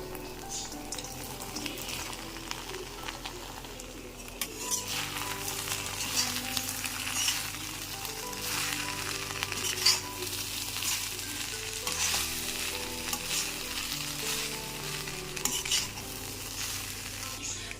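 Corn sizzles steadily in a hot pan while being stirred, a continuous crackling fry with scraping spoon strokes throughout, close and unbroken by talk.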